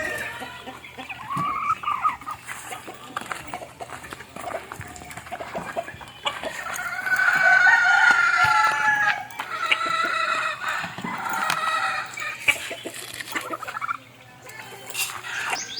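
Backyard chickens cluck and crow throughout, with several birds calling near and far over a steady rustling yard background, louder in the middle stretch.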